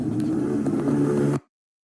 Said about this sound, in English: Amazing motorbike.